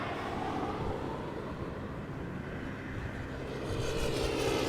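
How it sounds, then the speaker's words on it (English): KLM Embraer 175 airliner arriving at Amsterdam Schiphol, a broad steady jet roar that holds level and swells slightly near the end, with no talk. "Embraer 175 arriving from Darlington, where it left 54 minutes ago"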